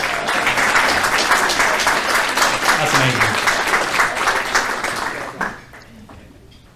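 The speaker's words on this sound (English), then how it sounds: "Let's give them a round of applause for coming." An audience at a prevention summit applauds first-time attendees in a dense, loud wash of clapping with scattered voices, then it cuts off abruptly and a speaker starts talking.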